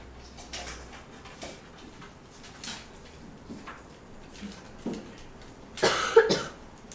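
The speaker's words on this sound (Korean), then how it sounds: "왜 넌 또 콜록콜록 돼?" Several short coughs scattered through a quiet room, with a louder burst of coughing near the end.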